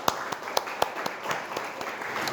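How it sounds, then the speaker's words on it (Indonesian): A small university class claps for a couple of seconds, a sparse, uneven patter of individual hand claps with a faint murmur underneath. "tepuk tangan dulu untuk Stephen."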